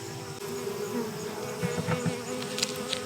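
A steady, close buzzing of many bees droning continuously, with a few louder passes of individual insects near the end.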